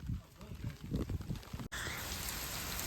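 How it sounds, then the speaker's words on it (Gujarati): Heavy rain pours steadily over an open village field, a dense continuous wash that suddenly swells loud in the second half after brief speech and movement at the start. "વરસાદ એકદમ જોરદાર આવે હો"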